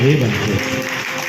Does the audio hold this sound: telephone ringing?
no